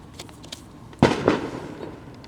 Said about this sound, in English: we will definitely be having some fireworks action in the background